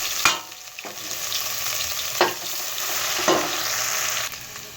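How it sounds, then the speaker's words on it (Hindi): Ginger and garlic dropped into hot oil for a summer squash dish, giving a steady crackling sizzle with a few sharper bursts as the pieces hit the pan and get stirred, close and alone without talk. "ऑयल हमारा गर्म हो चुका है। अब हम अदरक लहसुन डाल लेंगे।"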